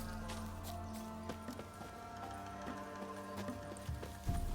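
Hooves of the horse Roach clopping steadily in The Witcher 3: Wild Hunt, a close, even trot running over a constant game ambience bed with a few louder footfalls near the end.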